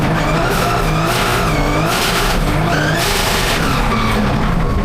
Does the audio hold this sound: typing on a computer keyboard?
no